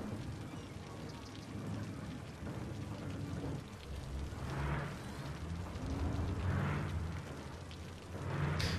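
Steady rain hiss from the city-building game Cities: Skylines, a continuous even downpour filling the whole stretch with soft swells, and a faint voice murmuring underneath.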